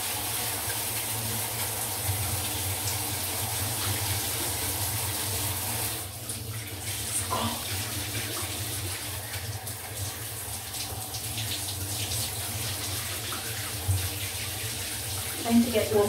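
Shower water runs steadily for the whole stretch, a continuous close hiss of spray in a bathroom during a morning shower, with a brief dip and some faint handling noises partway through.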